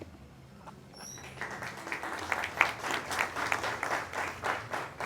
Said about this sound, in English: I think if there's anybody to clap for here today, it should be Fola.